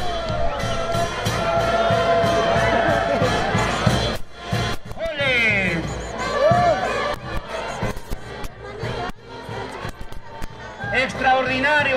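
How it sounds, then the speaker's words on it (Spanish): A large crowd at a bullfight in Pampachiri applauds and cheers loudly, with shouts rising over the clapping and a voice calling out through the noise. "¡Que vengan los fuertes aplausos!"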